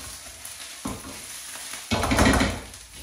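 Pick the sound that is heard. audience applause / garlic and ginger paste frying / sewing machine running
garlic and ginger paste frying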